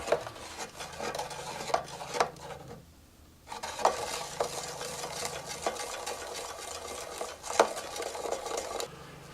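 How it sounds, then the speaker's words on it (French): Homemade giant bubble solution stirred in a container, with repeated rhythmic scraping and clinking strokes that run almost continuously and pause briefly, close by. "Et on mélange pendant au moins 10 minutes."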